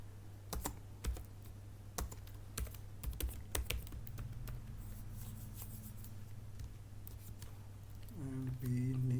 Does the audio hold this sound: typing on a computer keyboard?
yes